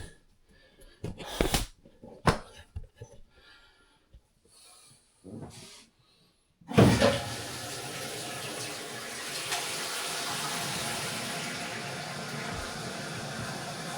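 A few clunks and scrapes, then water suddenly bursts on through household pipes after a water-damage repair and runs in a strong, steady rushing hiss that continues to the end.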